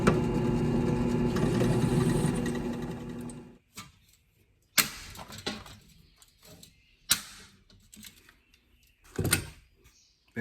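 A drill bores out rivets on a car door's roof rail blowout tab, with a steady grinding whine for several seconds followed by short, sharp clanks and bursts of metal being worked.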